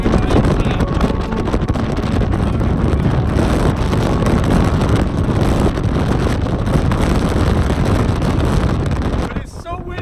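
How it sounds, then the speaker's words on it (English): Strong Antarctic wind roars and buffets the microphone in a loud, continuous rumble that barely lets up before dropping briefly at the very end. "To show you guys how windy it is up here."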